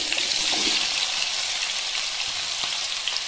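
Vegetable pieces hit hot coconut oil in a pan, producing a loud, steady crackling sizzle of frying that continues without pause.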